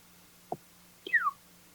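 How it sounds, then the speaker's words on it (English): A faint veery thrush call: a short soft note, then a brief descending whistled phrase, alone against quiet background hum. "It's called the veery bird."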